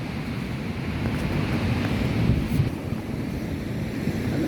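Ocean waves washing onto a beach: steady, loud broadband surf wash mixed with wind rumble on the microphone, continuous throughout with no clear breaks and no talk.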